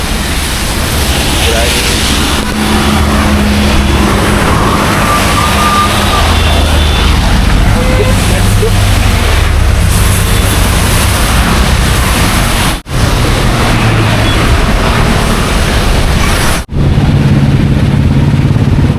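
Steady roar of passing traffic on the Bengaluru highway with engines of trucks and cars, loud and continuous, with a couple of brief dropouts.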